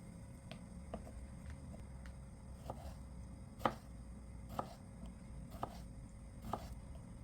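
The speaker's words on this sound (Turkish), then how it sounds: "Dilimlediğim patatesleri kibrit çöpü kalınlığında doğrayacağım." Sharp knife chops land on a cutting board, cutting sliced potatoes into matchstick strips, in an uneven series, close and fairly faint, with a steady low hum underneath and no talking.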